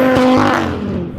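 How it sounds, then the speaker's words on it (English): A 700 bhp Audi RS3 with loud, modified exhaust revs hard, giving a brief raspy engine roar with a sharp tonal whine that fades out within a second, with no talk over it. "Car's loud, isn't it?"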